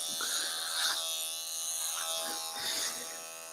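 Electric hair clippers buzz steadily throughout a clipper-over-comb haircut, a close, continuous motor hum with slight rises and dips as the blade moves, no talking over it.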